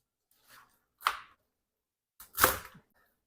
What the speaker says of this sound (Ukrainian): А самі листочки нарізаю, як завжди